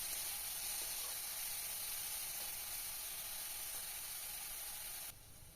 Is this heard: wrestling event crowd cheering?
no